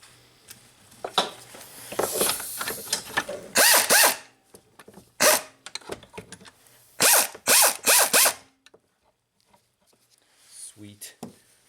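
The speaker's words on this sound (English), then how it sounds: "We'll put in a bolt just to keep it from flopping around." Ratcheting clicks from a bolt being tightened on a BMW alternator during an alternator replacement, coming in several bursts of rapid close-up ratchet strokes separated by short pauses, with some quieter handling noise between them.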